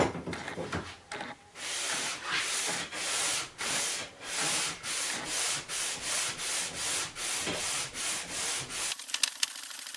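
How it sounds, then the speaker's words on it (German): A wooden electric guitar fretboard sanded by hand, rough rhythmic scraping strokes repeating about twice a second, close and steady for nearly the whole stretch before stopping abruptly. "Heute wird jetzt geschliffen, das Griffbrett."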